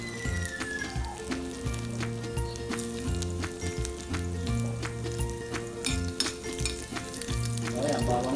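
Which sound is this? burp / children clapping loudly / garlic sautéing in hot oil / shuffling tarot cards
garlic sautéing in hot oil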